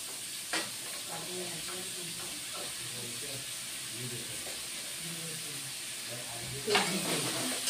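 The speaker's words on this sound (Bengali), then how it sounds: "এখন এই মটর আর আলুগুলি ভেজে নেব।" Green peas and potatoes frying in a pan give a soft, continuous sizzle with occasional stirring knocks, while a faint voice murmurs in the background.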